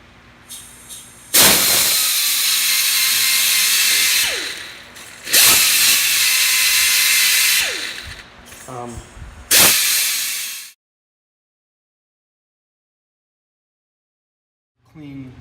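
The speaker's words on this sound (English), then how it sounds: "with this little power pneumatic grinder, not grinder, sander thing." A small pneumatic sander with a Ziz wheel cleans a brake part on a Ferret armoured vehicle, running in three loud, close, high whining hissing bursts of a few seconds each, winding down between them, then silence.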